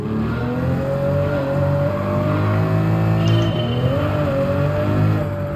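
Pagani Huayra with a Mercedes-AMG V12 in Gran Turismo 7, the engine droning and shifting pitch at steady revs with smooth harmonic tones, fairly loud and alone without talk.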